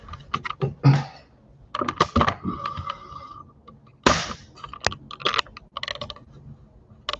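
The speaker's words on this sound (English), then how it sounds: "you can actually see me putting in the screws" Screws being driven by hand into a camera monitor-arm mount, close irregular metallic clicks and ratcheting taps in short bursts separated by quiet pauses.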